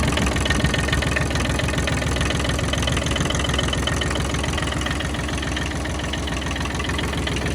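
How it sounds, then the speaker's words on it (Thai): A used vehicle engine idling throughout, a steady close rumble with a fast even knocking pulse and a slight mechanical clatter, loud and unbroken, with no voices. "มาดู ไอเครื่องนะครับ ไอเครื่องมีนิดหน่อยนะครับ ตามอายุการใช้งานนะครับ"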